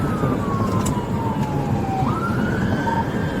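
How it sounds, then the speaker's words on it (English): A loud police siren wails steadily during a vehicle pursuit in Minnesota, its pitch sliding slowly down then jumping back up, with no talking over it. "The moment sirens go up, the vehicle flees"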